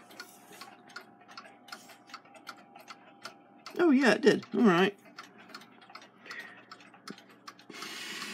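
Waterbury triple-decker chiming clock ticking steadily and close, with a brief loud burst of voices and handling midway, then ticking continues under quiet talk.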